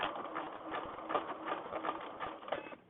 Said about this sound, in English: I'm going to stop and do some back stitching